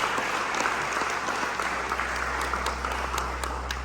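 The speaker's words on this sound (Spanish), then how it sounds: "Denle ese aplauso a nuestro Dios." A church congregation claps in sustained, dense applause during a Spanish-language service, steady and fairly close, fading slightly toward the end.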